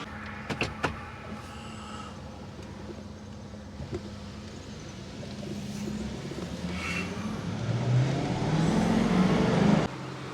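A truck pulls off and builds speed toward a highway, its engine hum rising steadily over about ten seconds after a few sharp door and cabin clicks at the start.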